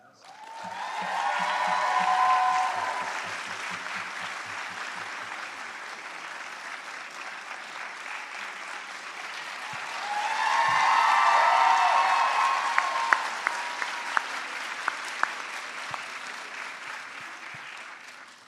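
At a physician assistant studies commencement ceremony, a large audience claps in two sustained waves of applause, the second swelling louder before tapering into scattered claps.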